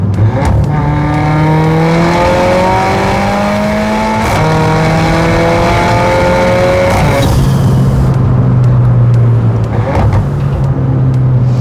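A loud, raspy Mercedes-AMG A45 engine with exhaust valves open revs up through third gear in a rising sweep, shifts, then climbs again with a burbling exhaust roar, close by and continuous.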